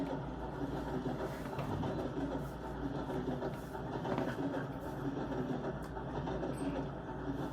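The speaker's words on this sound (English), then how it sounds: "It's just a high-speed train." High-speed train running on rails in Minecraft, a steady dense rumble and clatter of rolling rail noise held at an even, continuous level throughout with no voices.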